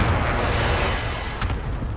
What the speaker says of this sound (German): Alles klar. Luftschlag im Anflug.